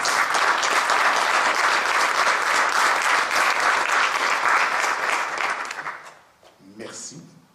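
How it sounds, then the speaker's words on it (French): Audience applause at a regional culture awards gala in the Laurentides, a loud sustained crowd clapping for about six seconds before fading, followed by a brief voice. "une très bonne main d'applaudissements"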